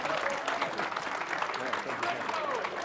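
A poker crowd applauds steadily as a player exits the stage at a World Series of Poker final table, a dense wash of clapping throughout under a commentator's voice.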